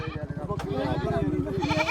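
A goat bleats in quick repeated pulses amid a busy goat market in Dhanaula, close and fairly loud, with people talking over it throughout.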